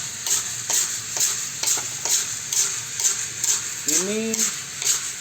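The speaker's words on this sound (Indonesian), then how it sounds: "700 gram robusta kita goreng seperti ini, durasi waktu antara 17 menit." Robusta coffee beans, 700 grams, roasted traditionally in a pan while stirred: a steady crackling sizzle with regular scraping strokes about every half second, close and fairly loud, with a brief voice speaking near the end.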